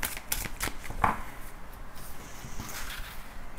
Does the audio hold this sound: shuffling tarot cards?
yes